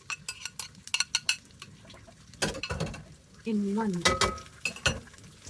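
Garlic, ginger and chili sautéing in a pan: a soft sizzle with clinks and scrapes of a utensil stirring against the pan, while someone talks over the cooking.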